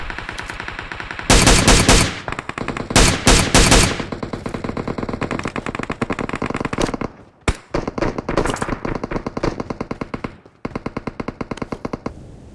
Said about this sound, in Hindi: जब मैं आ जाता हूँ तो पावर से फायरिंग होती है।